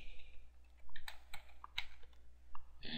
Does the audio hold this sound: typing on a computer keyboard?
yes